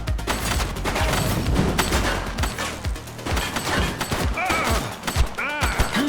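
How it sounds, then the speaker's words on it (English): Rapid bursts of gunfire ring out in a chaotic shootout in The Precinct, loud and sustained with overlapping shots and booms throughout. "She's shooting!"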